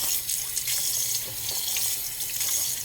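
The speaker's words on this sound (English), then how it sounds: "So I'm going to wash the eggplant." Water runs steadily from a sink tap in a continuous close splashing rush while an eggplant is washed under it, with no talk over the sound.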